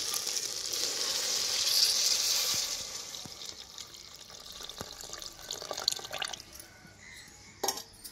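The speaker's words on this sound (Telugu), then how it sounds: "ఇప్పుడు నేను పులుపు అయితే పోసేసుకుంటున్నానండి" Tamarind water is poured into simmering sambar, making a bright hiss and sizzle at first that eases into bubbling liquid and scattered drips and clinks.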